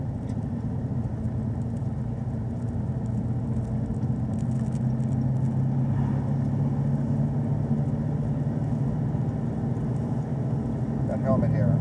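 A 2018 Chevrolet Camaro ZL1 1LE race car runs at Daytona, its engine a steady, loud low rumble that holds unbroken throughout, with a slight rise near the end.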